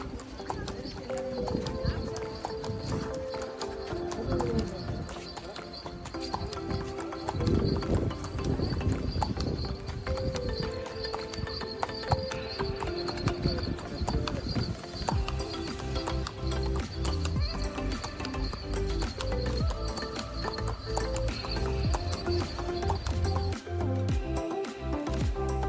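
A horse ridden at Dubare Elephant Camp clip-clops along in a steady rhythm of hoofbeats, close by, with occasional snorts and birds in the background and some talking over it.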